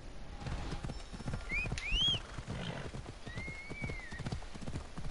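Steady clip-clop of horse hooves at a walking rhythm in the video game Assassin's Creed Odyssey, with a horse neighing partway through, over a soft ambient backdrop.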